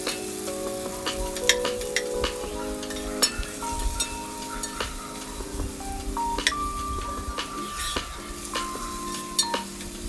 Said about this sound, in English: Now we will add in the onions and we let them fry till they are translucent